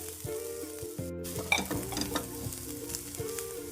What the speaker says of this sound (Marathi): आता कांदा मी याच्यावरती भाजून घेत असतील आणि छान असं मस्त ब्राऊन करून घ्यायचा आहेत